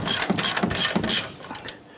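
A ratchet clicks in quick bursts while bolts on a front upper control arm of a 2011-2018 Ram 1500 are snugged down, close and fairly loud.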